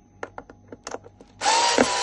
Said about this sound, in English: we're just unscrewing the four bolts in these areas